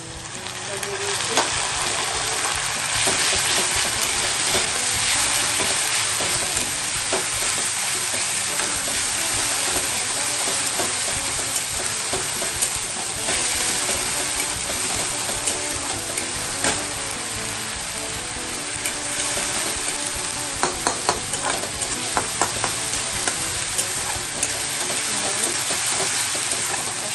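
Garlic, ginger and green chilli fry in hot oil for a homemade chicken curry, a dense, steady sizzle running throughout with occasional stirring scrapes and clinks, close and continuous.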